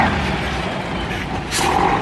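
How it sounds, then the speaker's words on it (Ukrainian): A vehicle pulls out of a self-service car wash, its engine rumbling steadily nearby with a brief hiss of air release near the end, set against a noisy indoor bay. "Зараз хай машина виїде."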